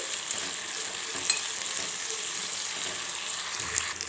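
Sliced onions and curry leaves fry in a pan with a steady, even hiss, broken by a few light clicks of stirring, close and without talk.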